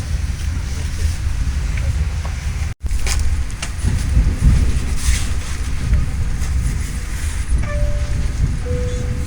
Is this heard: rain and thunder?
no